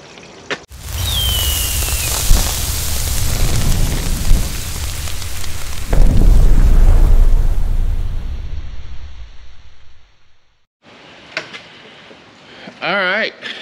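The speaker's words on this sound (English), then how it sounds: "It's raining" Broadband rain hiss, loud and close, runs steadily for most of the stretch, dropping out near the end where brief voices and clatter take over.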